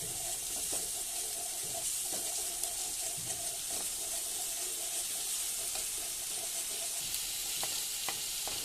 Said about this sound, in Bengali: তো এদিকে তেলের মধ্যে আমি পেঁয়াজ কচিগুলো ঢেলে দিলাম, পেঁয়াজ কচি আর রসুন কচি দিয়ে নাড়াচাড়া করতেছি ভালো করে।